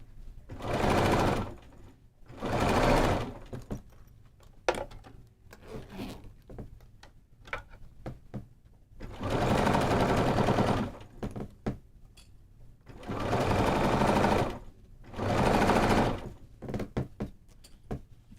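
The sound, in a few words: sewing machine sewing binding on a bag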